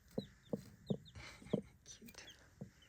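A broody hen in a late-summer garden clucks softly in a slow series of short, low clucks spaced about half a second apart, with faint chirping birds in the background.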